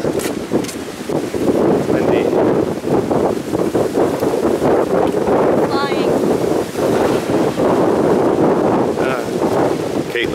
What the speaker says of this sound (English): It's so windy right here.